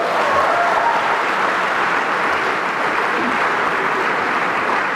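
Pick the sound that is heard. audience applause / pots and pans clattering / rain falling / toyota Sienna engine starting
audience applause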